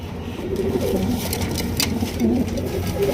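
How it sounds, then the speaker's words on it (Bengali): Black Jacobin pigeons held in a clay pot, giving soft low repeated coos close by, several throaty calls rising and falling over a light steady background hum. "ব্ল্যাক কালারের জ্যাকোবিন দুইটাই কিন্তু হাড়ির মধ্যে রয়েছে"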